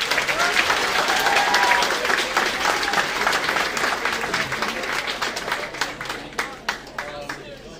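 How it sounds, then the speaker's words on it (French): Audience applause fills a school award ceremony at a lycée film festival, dense and steady at first, then thinning into scattered, separate claps as it fades toward the end. "Donc encore une fois, merci d'applaudir pour mes camarades."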